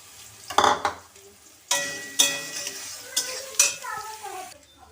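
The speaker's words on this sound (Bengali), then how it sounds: "সয়াবিনগুলোকে আমি হালকা করে একটু ভেজে নেব" Soybean chunks sizzle in oil while a spatula scrapes and clatters against the pan in several sharp strokes, close by.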